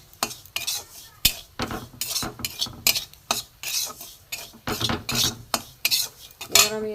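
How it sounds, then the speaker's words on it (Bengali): Semolina being dry-roasted in a pan is stirred with a utensil, making a rhythmic series of close scrapes and metallic clinks against the pan, with faint sizzle between strokes and no speech. "সুজিটা একটুখানি ভেজে নেব, কাঁচা গন্ধটা না থাকে।"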